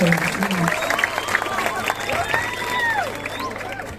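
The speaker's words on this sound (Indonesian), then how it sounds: "Tepuk tangan dulu untuk Bapak Iko Mangmudito." An audience applauds for an 80-year-old senior Sanghyang dancer at a Balinese village ceremony in Karangasem, scattered clapping mixed with crowd murmur and a voice speaking over it, with whistling tones drifting through the background.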